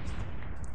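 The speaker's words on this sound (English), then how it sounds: "Two more explosions." A brief, loud Minecraft explosion in a custom map, a single close, deep rumbling boom that fills the moment with no talk over it.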